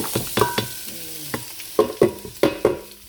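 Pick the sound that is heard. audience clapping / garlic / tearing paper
garlic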